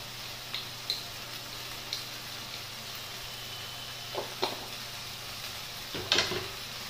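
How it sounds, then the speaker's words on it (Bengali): Masala of cumin, red chili and coriander powder frying in a pan, a steady soft sizzle with a few light clicks of a spoon against the pan, quiet and without talk. "ভালো করে কষিয়ে নেবো মশলাটা বন্ধুরা।"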